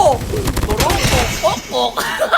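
SMG fire in a video game, rapid bursts of close gunshots in quick rhythm, mixed with other game sounds and short tonal chirps.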